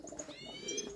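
Young pigeon chicks cheep in a pigeon loft, a run of thin, high-pitched calls rising and falling over a soft, close background of cooing adult pigeons.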